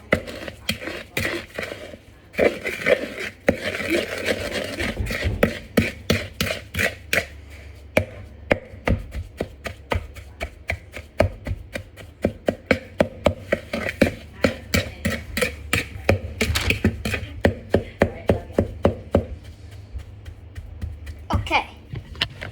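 Cookie dough with sugar is mixed in a bowl, producing a fast, steady run of rhythmic thuds and knocks that continues close up for most of the stretch.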